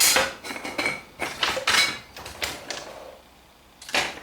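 Metal sockets rattle and clatter as someone digs through a socket set for a 17mm socket while removing the rotor on a 1983 Honda CBX 550F. Several close, sharp bursts of metallic clinking come in quick succession, pause briefly, then one more burst follows.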